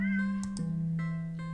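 A cat meows in an Itch.io video game, one long steady mewing call followed by softer repeated meows, close and clear with no talking.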